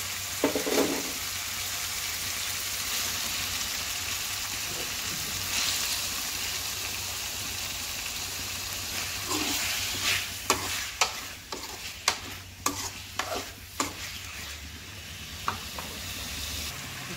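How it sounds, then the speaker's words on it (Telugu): Chicken frying in masala with curry leaves makes a constant sizzle with a low hum underneath, then a run of sharp spatula clacks against the pan in the latter half, close and clear, with no speech. "మసాలా కాసేపు వేగిన తర్వాత ఇందులో శుభ్రం చేసి పెట్టుకున్న చికెన్ను వేసుకోవాలి"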